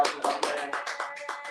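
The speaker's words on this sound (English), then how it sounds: "Round of applause to my man." A brief burst of a few people clapping for a podcast guest, close and dry, a quick run of separate claps that gets softer toward the end.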